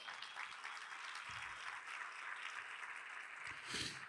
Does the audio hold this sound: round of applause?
yes